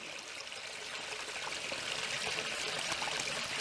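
A waterfall pours steadily into a pool with a broad, continuous hiss of rushing water, even and unbroken throughout.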